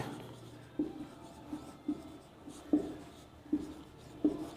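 Chalk strokes on a classroom board during a Class 7 Hindi physics lesson on magnetism, a series of short scratchy taps and scrapes coming at an irregular pace, close and fairly faint.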